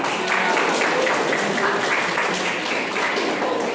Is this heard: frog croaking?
no